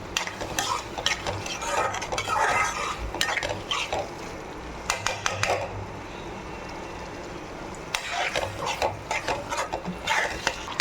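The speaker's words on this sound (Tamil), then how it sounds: "நம்ம இதில் போட்டு எல்லாத்தையும் வேக வச்சு வதக்கிக்கிறோம்" Prawn gravy for dum biryani is sautéed in a pot, with a soft sizzle under repeated bursts of a spoon stirring and scraping against the metal, the stirring pausing briefly before resuming.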